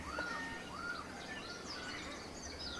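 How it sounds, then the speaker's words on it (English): A great cuckoo dove in New Guinea forest gives soft, repeated rising-and-falling whoop calls at a moderate distance, with scattered chirps and a steady insect-laden forest hum around them. "a great cuckoo dove."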